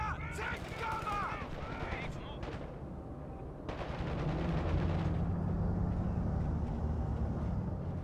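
Gunfire crackles in bursts through a Company of Heroes 2 battle, sharp shots early, then a steadier rumble of weapons and explosions, with a shouted in-game voice line over the fighting.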